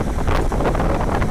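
Strong wind buffets the microphone outdoors while a technician changes filters on an AAON 60-ton A/C unit, a continuous loud rumbling roar with no voices.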